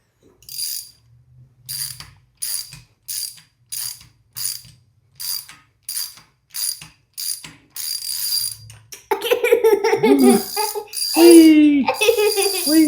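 A socket wrench ratchets in repeated short bursts of clicking while working on a Henry J Gasser build, each burst separated by brief pauses. Louder voices and playful squeals come in near the end.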